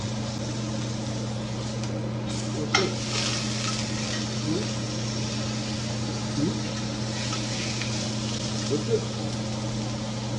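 Steak sears in hot, high-temperature peanut oil, giving a steady, even sizzle that holds for the whole stretch over a constant low hum, with a few faint utensil clicks.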